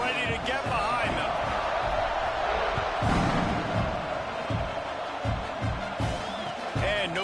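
Stadium crowd roaring in an NCAA football video game at a kickoff, a steady wash of cheering that sits under a commentator's continuous play-by-play.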